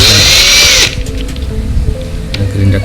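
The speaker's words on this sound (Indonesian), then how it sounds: "gerinda kecil yang kita buat dari amplas yang halus." A small homemade grinder fitted with fine sandpaper whirs loudly against the terminal of an 18650 lithium battery cell for under a second, then stops, leaving faint low handling noise and light clatter.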